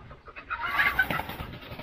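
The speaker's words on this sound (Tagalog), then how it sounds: "Huliin na natin guys yung manok." Chickens cluck and squawk close by amid scuffling and movement as they are caught in a backyard, a brief flurry of agitated fowl calls.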